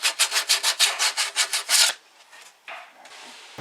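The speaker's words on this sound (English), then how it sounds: "Now it's just a question of taking off the rough edges with some 120 grade sandpaper." Rough wooden edges of kitchen table leaves are sanded by hand with 120-grit sandpaper, a rapid run of about a dozen rhythmic rasping strokes, close and loud, followed by a couple of lighter, slower rubs.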